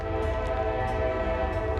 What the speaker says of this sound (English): as you can hear, there's definitely a train somewhere close by.